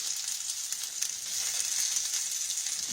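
Catfish fries slowly in a pan, giving a steady soft sizzle and crackle that holds evenly throughout with no talking over it.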